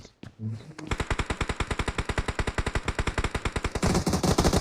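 Gunfire in a battle royale video game: a rapid automatic weapon fires a long, evenly spaced burst of loud, close shots that runs for several seconds, followed by a denser crackle of fire at the end.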